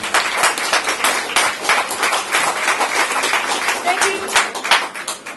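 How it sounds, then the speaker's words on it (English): Neighbors at a 50th anniversary party give Alderman Smith a loud, dense round of applause, continuous clapping close by, with some voices mixed into the crowd noise. "a big round of applause for Alderman Smith"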